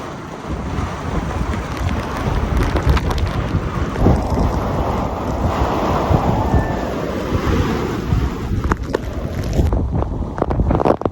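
Stormy wind and rain in Pakistani Punjab in a continuous roar, gusts buffeting the microphone and swelling and easing over the whole stretch.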